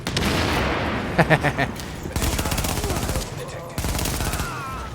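Gunfire and a grenade explosion in the shooter game The Division during the Madison Field Hospital mission: dense rapid gunshots, a few sharp bursts, then heavy booming blasts, with someone talking over the action.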